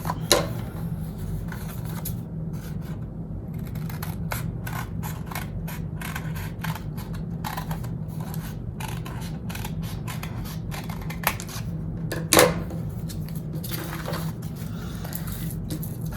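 Scissors snip through newspaper to cut a beard shape, a steady run of short crisp cuts close by with paper rustling, alone with no talk.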